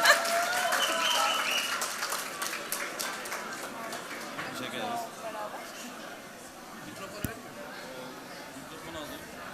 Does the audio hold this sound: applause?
yes